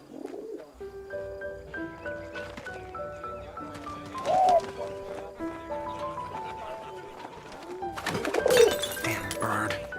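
A pigeon coos briefly in the video game Memories Retold, soft and fairly close, beneath a musical score and people talking.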